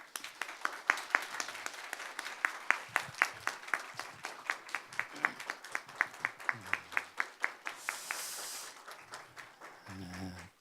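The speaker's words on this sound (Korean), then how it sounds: "큰 박수로 환영하겠습니다" A church congregation at an evening special revival prayer service claps together in a steady, fairly even rhythm, the sharp strokes filling the room for about eight seconds before fading, with some vocal sounds near the end.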